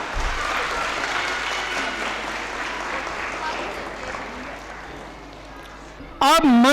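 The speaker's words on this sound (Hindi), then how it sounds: "जोरदार तालियां" Sustained applause from an audience at a Holy Himalayan School function in 2025, following a self-defence demonstration by a girl. The clapping is dense and loud, then fades slightly before a sharp burst of sound at the end.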